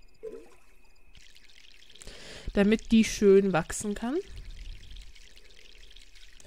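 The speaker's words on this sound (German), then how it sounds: "Dann gießen wir die." A black rose is watered in the My Sims video game, a soft pouring trickle running quietly beneath a person speaking German.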